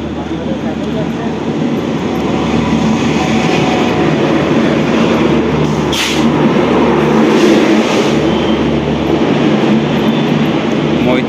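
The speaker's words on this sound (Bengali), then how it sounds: "মৈত্রী এক্সপ্রেস যাচ্ছে।" Maitree Express passenger train hauled by a WDM 3D diesel locomotive rolls past at reduced speed near Nadia during Cyclone Remal, a loud, continuous close-up rumble with wheel clatter and roar lasting throughout.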